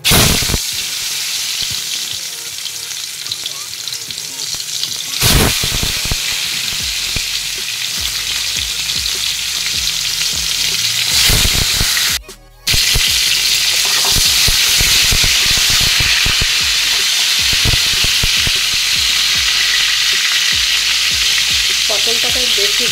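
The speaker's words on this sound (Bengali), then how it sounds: "পটলগুলো আমি এখন ভেজে নেব।" Pieces of pointed gourd (potol) frying in white oil in a kadai, a loud continuous sizzle with stirring scrapes, briefly interrupted by a short gap before the crackling resumes close and steady.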